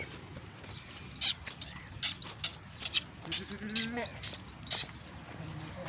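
Goats bleat repeatedly at a goat farm in Pakistan, several short calls over steady outdoor background noise and murmuring voices, fairly close.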